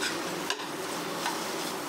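Raw banana curry with cumin powder is stirred and sautéed in a pan, giving a soft continuous sizzle with a couple of brief scraping stirs, close and moderately loud, without speech.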